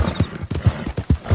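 Horse hooves clip-clop in a galloping rhythm with whinnying neighs, from a horse in the video game Red Dead Redemption 2, loud and close with steady repeated hoofbeats.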